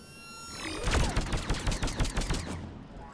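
Rapid burst of sniper rifle fire in the video game Mass Effect 3, a loud string of sharp cracking shots, roughly a dozen in quick succession, following a soft tonal hum and then trailing off.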